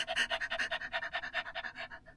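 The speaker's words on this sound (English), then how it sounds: "panting is what the dogs do" Someone demonstrates dog-like panting as a voice warm-up for singing, with quick, rhythmic in-and-out breaths repeating evenly about a dozen times, close and fairly loud, then fading out at the end.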